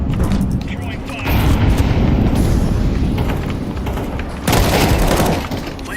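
Incendiary grenade in Counter-Strike 2 thrown and bursting with a shattering crash and fiery roar, followed moments later by a second loud rushing blast amid gunfire and game noise.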